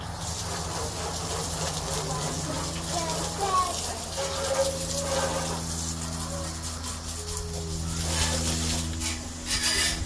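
Water sprays and splashes steadily onto a go-kart being soaked down before soaping, a continuous hissing wash that runs throughout with a low hum underneath.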